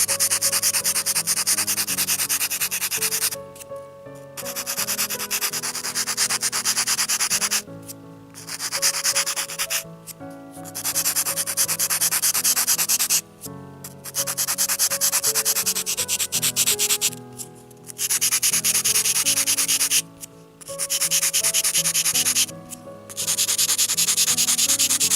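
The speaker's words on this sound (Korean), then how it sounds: "여기서는 지금 평평한 이 부분을 사용해서 다듬을 거예요" The flat side of a small modelling tool smooths a miniature clay bowl, making close, loud, steady rubbing and scraping strokes in long runs broken by short pauses.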